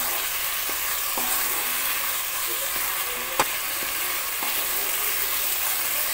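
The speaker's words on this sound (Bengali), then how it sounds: "মশলাটা খুব সুন্দরভাবে কষানো হচ্ছে।" Spice masala for dum aloo frying in a pan, a constant close hiss of sizzling oil broken by occasional ladle taps and one sharp clink.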